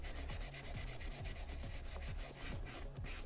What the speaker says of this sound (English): you're probably better off just using some sandpaper, fine grit sandpaper